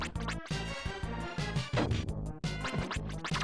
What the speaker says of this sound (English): It sounds like this is boss music.